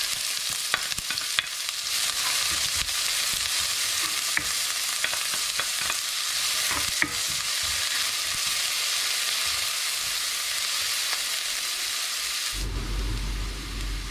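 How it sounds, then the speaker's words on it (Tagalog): Sliced onion frying in cooking oil in a pan, giving a dense, continuous close sizzle with scattered scraping stirs; the hiss drops away abruptly near the end. "Maglagay lang tayo ng guys, mantika syempre. So lagyan na natin itong sibuyas."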